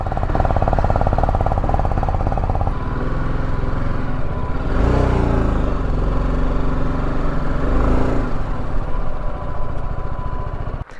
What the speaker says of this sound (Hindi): वाओ ये तो एक ही बार में स्टार्ट ले लिया भाई, सोचा नहीं था इतना ठंड में ये स्टार्ट हो जाएगा।